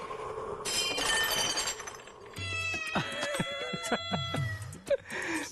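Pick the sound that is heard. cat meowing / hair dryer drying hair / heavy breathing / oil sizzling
cat meowing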